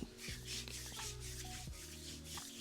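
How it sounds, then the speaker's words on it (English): Soothing hydrating gel rubbed by hand onto skin before laser hair removal, a soft continuous smearing and rubbing close by, steady and quiet with a few faint slick strokes. "So I just take, I don't take loads actually, like that much there. And just rub that in"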